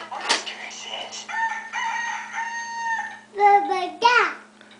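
An electronic toy rooster crows in a bright, tinny cock-a-doodle-doo, with a voice chiming in nearby amid short chirpy sounds.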